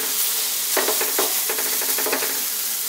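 Burger patties frying in a pan over medium heat, a constant bright sizzle with bursts of louder crackling spitting and popping as the meat sears, close up with no talk.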